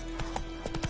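Hooves of Roach, the horse in the video game Witcher 3, clip-clopping in a quick steady gallop rhythm, close and clear over a constant background tone.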